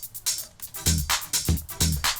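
A soloed percussion loop from a dark tech house track made in Ableton plays on its own: crisp hissy hats and ride with thumping hits in a quick repeating groove, close and clear.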